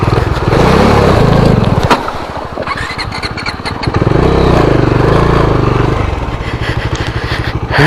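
A Bajaj Dominar 400 motorcycle accelerates in second gear, its engine roaring loud and close with a steady rumble that dips briefly before building again, no voices over it.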